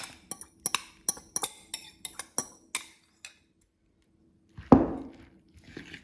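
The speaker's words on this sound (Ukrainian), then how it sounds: "І перемішуємо ось цими тертими кабачками." Grated zucchini mixture stirred with a utensil in a bowl, making a quick series of sharp clinks and ticks against the bowl's side. A louder scraping, wet swish follows after a short pause, with no talking.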